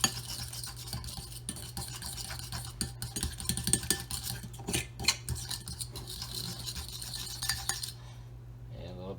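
A utensil scrapes and knocks around a bowl while mixing apple cake batter, giving repeated close rubbing and clinking strokes that stop near the end.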